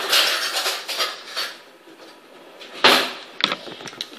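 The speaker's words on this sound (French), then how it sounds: "donc je vais prendre une cuillère" A spoon taken from a drawer in a home kitchen while making brownies: bright metallic cutlery clinks and rattles up close, a loud jangle early, then sharper single clinks near the end, no voices.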